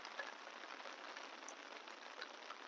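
Rain falls in a steady, soft patter on outdoor surfaces, faint and continuous, with no voices.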